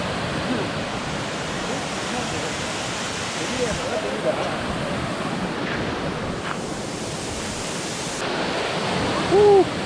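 Water pours at Thoothur waterfall in a steady, loud broadband roar that fills the whole scene, with wind buffeting the microphone and a brief voice faintly under the rush.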